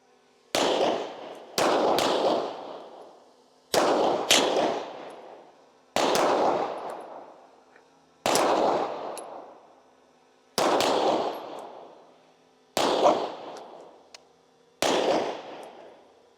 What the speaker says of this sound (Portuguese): Os disparos começarão ao som do apito